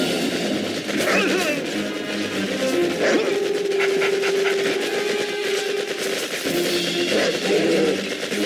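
Attack dogs in the real-time strategy game Red Alert 3 bark and pant amid battle noise and occasional gunfire, a busy mix of short yelps and growls at moderate loudness with a brief tonal hum.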